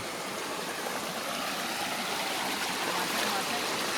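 A village river rushes past in a continuous, dense, even wash of flowing water that stays loud and close throughout.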